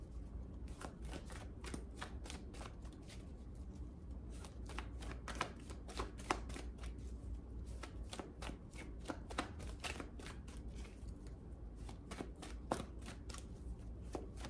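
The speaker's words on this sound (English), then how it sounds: "Let's shuffle our clarifying deck while I take a look at these cards." A deck of tarot cards being shuffled close up, with a steady run of crisp riffling snaps and slaps continuing for a long stretch with no talking.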